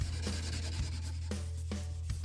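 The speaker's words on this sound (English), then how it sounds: "Right now I'm doing some light sanding where I want to lighten up the burst a bit." Sandpaper rubs lightly by hand over the stained sunburst finish of a wooden travel guitar body, soft close scratchy strokes repeating a few times, with no voices.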